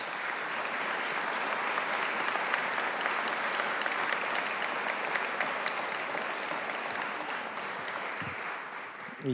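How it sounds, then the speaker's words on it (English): Members of the 9/11 family community receive sustained, dense applause from a large audience at a Capitol Hill gathering, a steady wash of clapping that holds evenly throughout. "So perhaps we could give them a round of applause."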